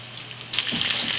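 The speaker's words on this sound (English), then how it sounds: "I will cook these until they're golden brown on each side." Pork chops frying in butter and oil in a pan, a steady close sizzle that swells louder halfway through, heard alone.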